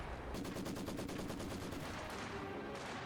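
Machine gun fire in a World War II video game battle, a rapid burst of close, loud rattling shots that then gives way to sustained battle noise.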